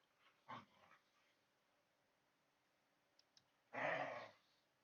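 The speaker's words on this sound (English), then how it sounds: "You can hear the doggies. They're playing over there." Two dogs, a brother and sister, play with each other, heard as brief soft yips and whimpers and then a louder bark-like yelp, faint and somewhat distant against a quiet room.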